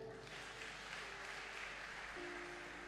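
Church congregation applauding during a worship service: continuous, even clapping that sounds distant and fairly faint, with a low hum beneath it.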